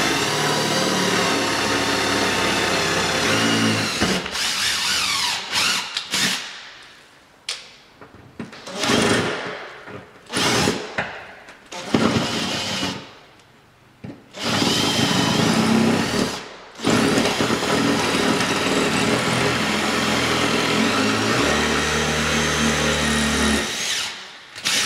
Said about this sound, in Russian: Сейчас мы засверлимся туда.